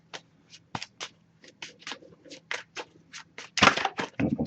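A deck of oracle cards being shuffled by hand, with a string of short, crisp riffling and tapping bursts close to the mic and a louder flurry near the end.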